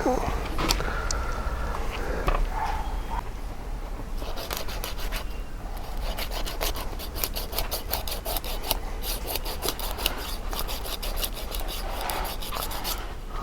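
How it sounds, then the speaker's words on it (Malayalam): A knife scrapes the skin off a pond fish being cleaned for curry, making dense, rapid rasping strokes close by that grow busier partway through, with occasional speech. "രണ്ട് സൈഡും തൊലി കളയാം."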